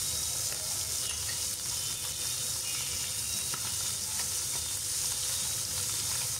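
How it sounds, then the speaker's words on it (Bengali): Small mixed fish being fried crisp in a pan with raw mango cooking, giving a steady, close, loud sizzle with crackling oil that runs unbroken throughout and has no talking over it. "সব মাছগুলো দিয়ে এখন প্যানের মধ্যে আমি ভেজে নিচ্ছি।"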